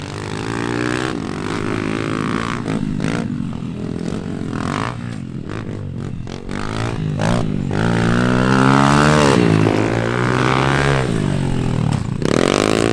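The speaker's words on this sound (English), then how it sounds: "Come on, Chris, give us some gas!" Pit bike engines rev hard during a race on a dirt track, a loud, continuous buzzing whine that climbs and falls in pitch as riders accelerate and shift, heard up close with no voices over it.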